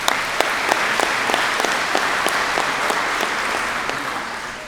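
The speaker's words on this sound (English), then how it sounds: "please give them a round of applause" Applause rises from the audience at a 2022 high school graduation ceremony as board members are introduced, steady and dense with sharp individual claps scattered throughout, no speech over it.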